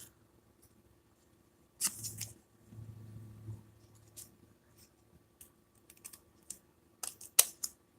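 Scissors cut paper for a journal in a quiet room, giving close, sparse snips and rustles that come in irregular bursts, with a longer crinkly stretch near the start.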